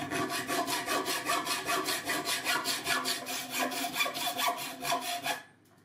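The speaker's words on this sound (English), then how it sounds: "see how hard it is to cut with just a hacksaw" A hacksaw cuts through brass stock with steady, fast back-and-forth rasping strokes, about twenty in a row, loud and close, before stopping abruptly into near silence.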